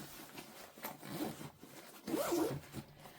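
A small zip-up storage bag is zipped close by, two short rasping pulls separated by a brief pause, quiet and with no voices.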